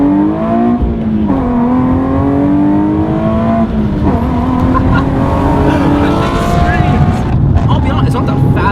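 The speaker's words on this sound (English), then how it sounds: "Like that exhaust makes you smile. It screams." A 400 hp Nissan 370Z Nismo pulls hard in first gear, its engine note climbing through rising revs with a loud, raspy exhaust heard from inside the car, while people talk over it.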